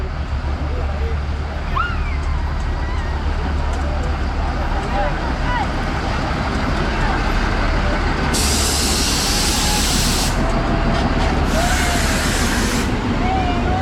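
A loud, rumbling arriving train drones steadily nearby, with hissing bursts of air brakes and people talking over it.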